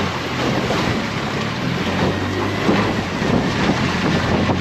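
A 12-foot Marlon pleasure boat with a Yamaha 9.9HP outboard motor cruising on open water, a steady loud drone mixed with rushing water and gusting wind noise on the microphone, with no voices.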